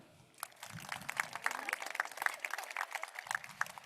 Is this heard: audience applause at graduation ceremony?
yes